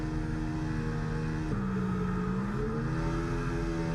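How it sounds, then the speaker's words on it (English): A high-pitched Formula 1 race car engine in the video game F1 24 drones and revs at idle, the pitch stepping up and down while holding steady, with no talking. "Revs perfect."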